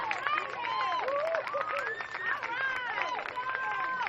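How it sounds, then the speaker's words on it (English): Crowd of baseball fans at a youth championship game in Florida standing and applauding, with sustained clapping and cheering mixed with whistles and babble, loud and continuous throughout. "Fans are on their feet applauding"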